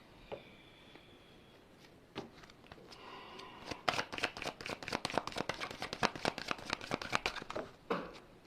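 Tarot cards shuffled by hand, a few soft taps at first, then a quick run of crisp, rapid card flicks and clacks close by, ending in a brief final rustle, with no speech.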